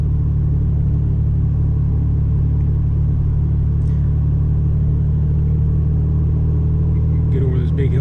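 Steady engine rumble of a banged-up older truck climbing a big hill at constant throttle, a continuous low drone with road noise throughout and no clear revving changes.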